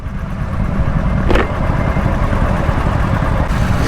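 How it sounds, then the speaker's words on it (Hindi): Steady, loud engine and exhaust rumble from superbikes, a Suzuki Hayabusa and a Kawasaki 10R, heard outdoors near a highway with a constant low drone and a brief brighter swell partway through. "एग्जॉस्ट की आवाज़ यहाँ तक आ रही है।"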